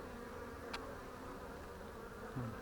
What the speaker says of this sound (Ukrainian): Годують, все, як весною бджоли літають.